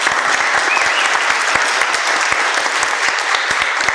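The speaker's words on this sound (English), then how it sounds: "Let's give a round of applause for that." A crowd at a real estate panel event breaks into a round of applause, dense and steady clapping that carries loudly and evenly across the whole stretch with no voices standing out.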